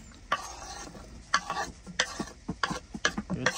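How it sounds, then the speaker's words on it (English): Meat and onion frying and being stirred in a pan on a wood stove inside a hot tent during a snowstorm, with a steady close sizzle broken by repeated scraping stir strokes. "Got the meat going."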